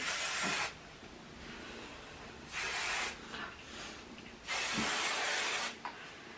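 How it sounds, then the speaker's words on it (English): Three long hissing bursts from an aerosol can of Kenra hairspray, separated by short pauses, close and fairly loud against a quiet room. "And then I use the Kenra hairspray."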